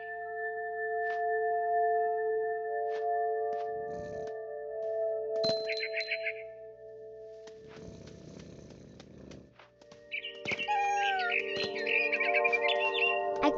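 Bird chirps in the video game What Remains of Edith Finch come as short bright twittering bursts, set against sustained ringing tones and scattered clinks.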